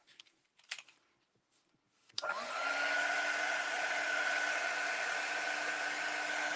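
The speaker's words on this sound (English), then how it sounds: "I do have the heat tool next to me" A heat tool is switched on to dry paint on an art journal page. A few soft clicks come first, then a loud, steady blowing whoosh runs continuously to the end.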